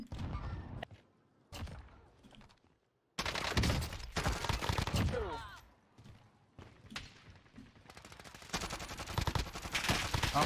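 Gunfire in Call of Duty Warzone Season 3 crackles in rapid bursts and thuds, with a brief silent gap and louder sustained firing toward the end, mixed with game sounds.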